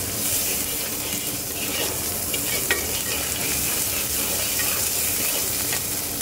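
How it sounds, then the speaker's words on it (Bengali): Turmeric, coriander and cumin powder fry in a pan while being stirred, giving a continuous close sizzle with scraping stir noises and occasional crackles. "ভাজা ভাজা করব"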